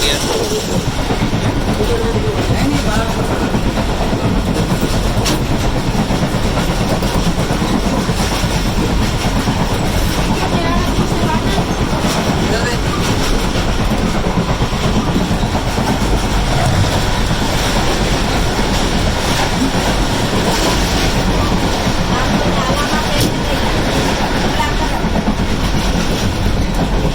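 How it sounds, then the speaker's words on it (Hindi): Two express trains cross at speed on a Pakistani railway between Nawabshah and Karachi, a loud, steady roar of wheels and rushing wagons with clickety-clack running continuously throughout, close by. "पाकिस्तान एक्सप्रेस G40 के साथ क्रॉस हुआ है। काफ़ी अच्छी रफ्तार में थी दोनों ट्रेन।"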